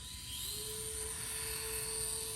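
Small electric motor of an Axial SCX24 RC crawler held at full throttle, a steady high-pitched whine that rises as it spins up and holds, close and continuous, with no talk.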